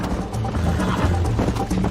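Rapid, steady hoofbeats of a galloping horse in the video game Red Dead Redemption, with a constant rumbling background, loud and continuous.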